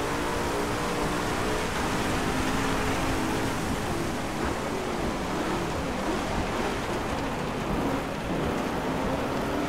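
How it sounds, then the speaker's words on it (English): Heavy rain and rolling thunder from a DriveClub racing game on PS4 pour down in a dense, continuous roar with low rumbles beneath, loud and unbroken. "I mean, the rain effects are nice."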